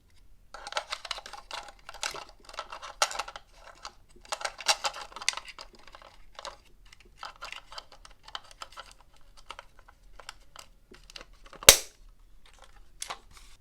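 18650 batteries are fitted into a Radiomaster TX8 radio transmitter, giving scattered close plastic clicks, rattles and scrapes in uneven bursts, then one sharp loud snap near the end, with no talking.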